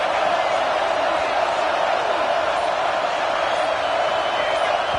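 A stadium crowd in the college football video game CFB 26 roars in a steady, dense wall of noise at fourth down during an Oregon at Washington game, loud and continuous throughout without letting up.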